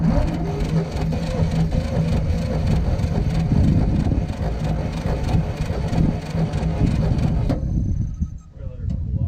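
A 1947 GMC EC303 truck engine fires up for the first time and runs with a rough, steady low rumble for several seconds, then cuts out near the end. Voices are faintly audible beneath it.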